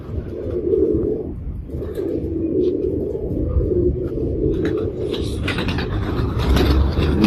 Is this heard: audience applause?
no